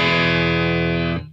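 A single sustained electric guitar chord played on the neck pickup with a Roger Mayer Voodoo Boost pedal switched off rings out clean and loud, then is cut off abruptly after about a second.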